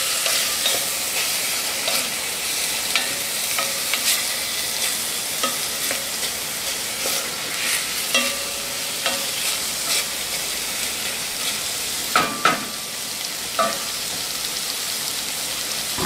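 Lentil dish ingredients frying in a pan with ground aji amarillo, a steady loud hissing sizzle with scattered crackles and occasional utensil scrapes and clicks, no speech.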